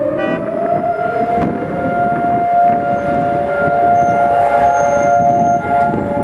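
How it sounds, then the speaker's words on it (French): Remembrance day sirens wail across Jerusalem, a loud, sustained steady tone holding throughout with a faint higher harmonic, over a low rumble of distant traffic or crowd noise. "une fois par an, à Jérusalem, le temps s'arrête quand retentissent les sirènes"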